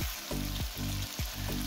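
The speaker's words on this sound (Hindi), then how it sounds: "इसको हमने सारे मसाले डाल के अच्छी तरह से भून लेना है" Spices for a lamb karahi frying in hot cooking oil give a steady, close sizzle, broken roughly every half second by soft, low stirring thumps. No one speaks.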